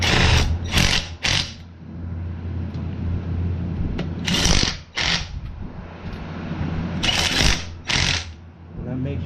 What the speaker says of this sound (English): I get my impact socket and I just run them down nice and easy till they're snug